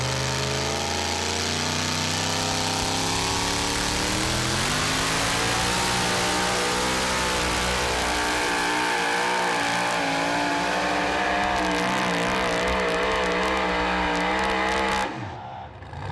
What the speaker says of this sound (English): Next up will be Jesse Petro in a truck called the P5.